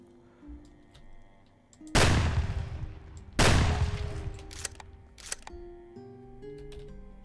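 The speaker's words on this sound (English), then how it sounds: "probably not a good idea blasting on the gun, but I'm going to do it" Two loud, close gunshots with long booming tails, about a second and a half apart, in the zombie survival game Project Zomboid, followed by fainter clicks and game sounds.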